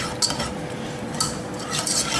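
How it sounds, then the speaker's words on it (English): A utensil stirs milk into a sauce in a saucepan for macaroni cheese, with a steady swishing broken by a few sharp clinks of metal against the pan. "here I'm stirring"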